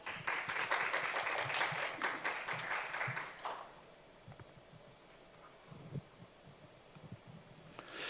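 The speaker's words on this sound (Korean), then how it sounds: "큰 박수 부탁드립니다" Audience applause at an international environmental forum welcoming the chair of the sixth session, a full round of clapping for about three seconds that abruptly fades to room hush with scattered faint knocks.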